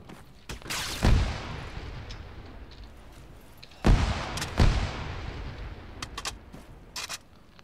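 Frag grenades exploding in ArmA 3 SOG, with two loud booming blasts a few seconds apart, each trailing into a long rumbling decay, followed by fainter sharp cracks of distant gunfire.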